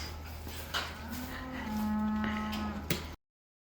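Dairy cows in a barn low from close by with one long, drawn-out moo, against a steady background hum and faint clanks.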